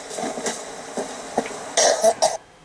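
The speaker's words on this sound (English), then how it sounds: "do you hear me coughing?" Several sharp coughs ring out close to the microphone, a few scattered early on, then a louder cluster of harsh hacking coughs near the end.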